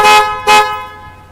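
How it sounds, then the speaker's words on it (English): A Sprinter van's horns honk twice in quick succession, each blast short, loud and close, the second fading into a brief echo. "it's not going to be able to get a sense of how loud the horns are, but they're plenty loud"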